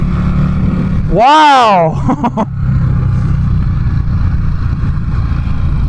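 An Indian Scout Bobber motorcycle engine revs sharply upward to a high, screaming pitch and drops off, followed by a few quick blips, close and loud over road and wind noise, with a brief spoken exclamation afterward.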